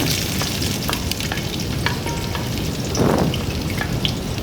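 Chopped onion hits hot oil in a pan with a loud, continuous crackling sizzle and scattered sharp pops, close up and without talk.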